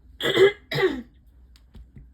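Two rough coughs in quick succession, close and fairly loud, followed by near silence and a couple of faint clicks.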